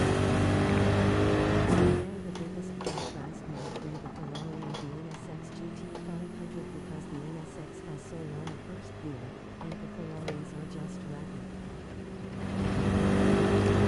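Ferrari race cars in Gran Turismo 7 launch off the start line, with engines revving and climbing in pitch as they accelerate. A voice talks over the steady engine drone.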